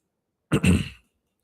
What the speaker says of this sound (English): Clear my throat all in the camera or in the mic.